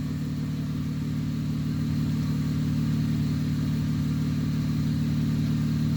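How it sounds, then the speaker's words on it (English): An Acura CL/TL car engine running steadily at a constant idle, a loud, continuous low hum with no change in pitch throughout. "Got the car running."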